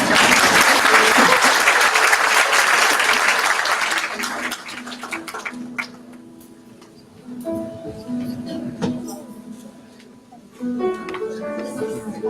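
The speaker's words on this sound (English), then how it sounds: "It's okay to clap." Audience applause at a dental school white coat ceremony as graduating students are called forward: dense, loud clapping that thins out over several seconds, with scattered claps and some voices continuing underneath.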